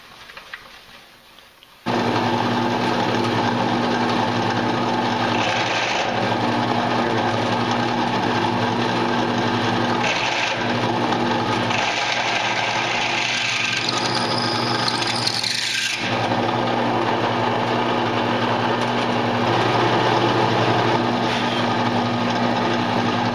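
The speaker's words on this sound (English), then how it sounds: "I've set up my drill press here so it stops at the proper depth" After a brief quiet start, a drill press spins up and runs continuously, with grinding, rasping bursts as the bit cuts into aluminum plate.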